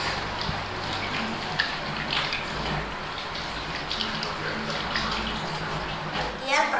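Hands being rinsed under running tap water during a handwashing demonstration; a steady, close splashing rush continues evenly for the whole stretch, with no talk.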